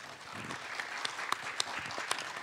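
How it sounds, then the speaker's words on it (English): Faint, steady clapping from a conference audience thanking summit panelists on green finance, a soft, distant patter with a few louder claps close by. "we should thank all panelists with a warm round of applause"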